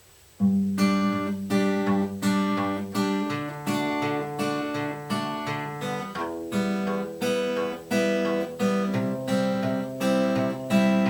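Guitar chords are plucked one after another in a steady rhythm, each opening with a low bass note before the chord rings out, close and clear.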